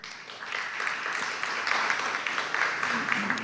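A conference audience claps steadily for a few seconds, a dense patter of applause at moderate distance.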